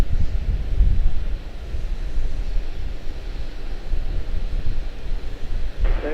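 Wind blowing at Charlotte-Douglas International Airport, a steady, loud rumbling buffet of gusts across the microphone, swelling and easing throughout with no voices.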